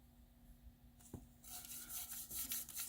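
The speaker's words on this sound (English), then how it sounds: "I'm almost scrubbing with this brush" A brush scrubs a distressed American flag tumbler, faint repeated rubbing strokes growing busier after a quiet handling knock, close and soft against a low steady hum.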